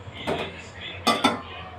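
A metal pot of boiled potatoes is lifted off a gas stove with a soft clatter, then two sharp, close clinks of metal on metal.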